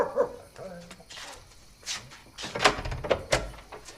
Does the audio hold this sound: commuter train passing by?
no